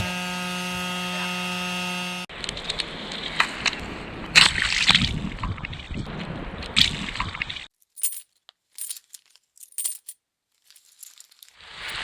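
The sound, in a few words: rain leaking into the sailboat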